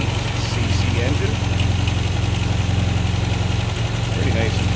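A 1979 MG MGB roadster with a 1,788cc inline four-cylinder and dual carburetors idles steadily, a low continuous engine rumble running throughout at even volume with no pauses.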